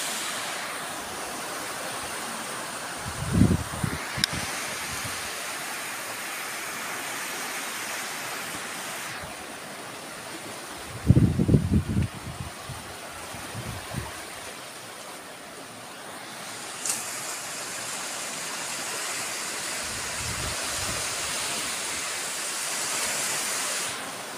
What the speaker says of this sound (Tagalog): Kaya yan ang alon, no?